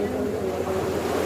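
Sea waves wash near a boat at Patungan Beach in Ternate, Cavite, a steady low rush of surf and wind noise close to the microphone.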